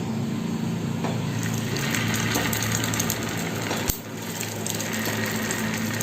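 Chhana (cottage cheese) fritters fry in hot oil, making a continuous dense sizzling hiss that stays steady and fairly loud throughout, with one sharp click partway through.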